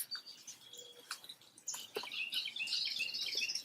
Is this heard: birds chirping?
yes